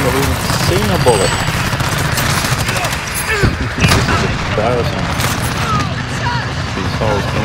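Chopper gunner killstreak fire in a first-person shooter video game, dense loud bursts and booms under a constant engine rumble, with a person talking over the gunfire throughout.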